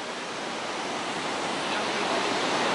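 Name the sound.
Iguazu waterfalls roaring near a boat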